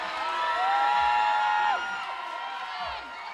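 A crowd at a climbing competition cheers loudly, with sustained high whoops and shouts that build and then taper slightly, with no clear speech on top.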